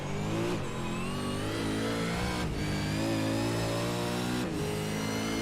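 A loud, high-revving V8 supercar engine in a racing game drones steadily, with brief dips in pitch at regular gear changes every couple of seconds.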